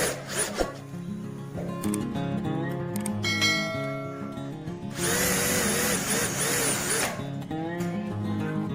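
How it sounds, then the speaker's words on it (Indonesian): A power drill drives light steel screws into a lightweight steel door frame, its whine rising for about two seconds amid scattered metallic taps and handling noise, close and fairly loud. "kita akan pasang 2 buah baut baja ringan supaya lebih kuat untuk rangkanya"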